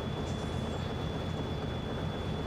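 A train runs through snow in a farming video game, a steady, close rumble of wheels and engine under a thin constant whine, with no speech.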